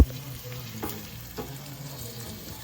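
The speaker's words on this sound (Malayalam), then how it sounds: "എന്നിട്ട് ഞാൻ 2ാമത് ഉള്ളി എടുത്തിട്ട് പിന്നെയും ഞാൻ ഉള്ളി കാച്ചു." Sliced onions frying in hot oil for fish curry, a steady close sizzle throughout with a couple of faint stirring scrapes and no talk.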